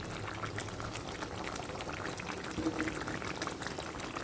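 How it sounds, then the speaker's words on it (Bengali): Small chara pona fish simmering in a curry masala kalia gravy, giving a continuous dense bubbling and gentle hiss that holds steady and close throughout. "মাছগুলো ঢেলে পাঁচ মিনিট আমি এর মধ্যে ফোটাবো"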